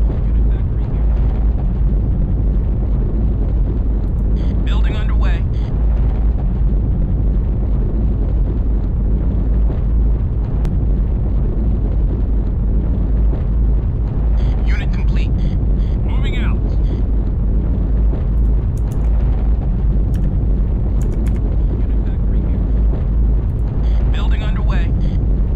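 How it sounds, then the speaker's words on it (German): Explosions erupting across the surface of a planet breaking apart in the video game Battlezone: Combat Commander, heard as a loud, continuous rumbling roar with bursts of voice over it. "Das sind generell Explosionen, die einfach nur auf der Oberfläche stattfinden, weil der Planet auseinanderbricht."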